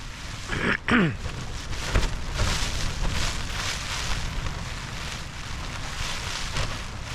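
Strong wind gusting 21 to 38 roars and buffets a tent while wild camping, swelling and easing over a constant rushing noise, with a brief flapping rustle near the start.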